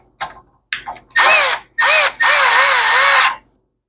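A power drill drives a screw while a McLane edger is being repaired: two short trigger blips, then three longer whirring runs with wavering pitch, loud and close with no talk.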